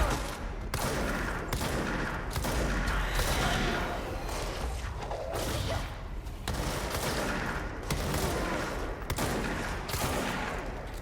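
Explosions and gunfire in the video game Control, a dense, continuous barrage of loud booms and rapid shots with almost no pauses, a voice faintly underneath.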